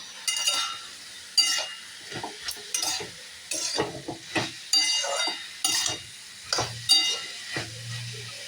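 Mixed vegetables for pasta sizzle in a pan, partly covered between stirs, while a spatula scrapes and stirs in repeated bursts, with occasional clinks of metal.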